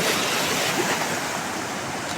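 Steady wash of sea waves on the Konkan coast near Ganpatipule, Maharashtra, a continuous broadband rush of surf with a little wind, fairly close and unbroken for the whole stretch, with no voices.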